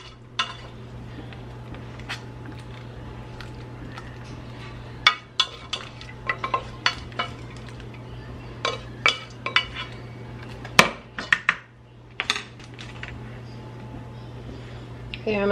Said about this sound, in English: Then I'm just going to pour it here into my casserole dish.